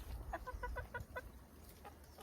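On a homestead where poultry is being processed, a chicken clucks in a quick, rhythmic series of short notes, moderately near over low background rumble.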